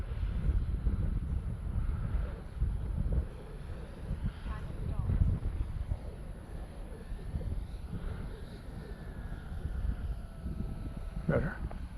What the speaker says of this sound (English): This wind is bad.